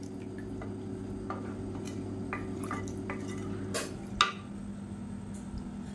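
A spoon stirs soaked foxtail millet and water together in a pan for millet kanji, giving light scrapes and a few sharp clinks over a steady low kitchen hum, with no talking.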